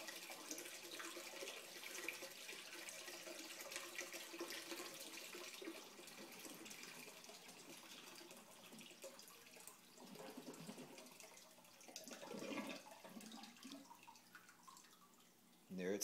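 An aquaponics grow bed drains through its siphon in a small garage setup, giving a faint, steady gurgle and trickle of running water that swells briefly near the end.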